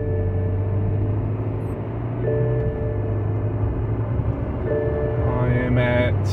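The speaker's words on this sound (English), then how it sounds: "we'll do one more straight ahead drive at a steady speed" Car cruising straight ahead at a steady 60 mph with a worn wheel bearing: a continuous low road and cabin drone with a steady hum throughout, loud and unbroken, with no talk.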